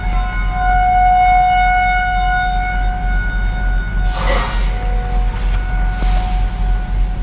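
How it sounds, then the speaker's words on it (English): A tornado warning siren wails steadily on a calm day, a loud sustained drone of layered tones that holds throughout, with a couple of brief bursts of other noise partway through. "tornado sirens going off for whatever reason."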